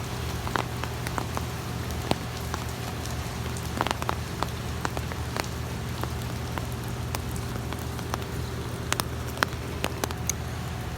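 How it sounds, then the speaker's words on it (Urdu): Heavy rain falls steadily on surfaces in Makkah, a dense continuous hiss with scattered sharp drop impacts and crackles throughout, no voices. "پھر بارش برس رہی ہے"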